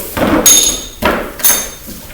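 Metal tools from a wrench set clank and rattle as someone rummages through them, with a few sharp metallic knocks and jingles standing out close by.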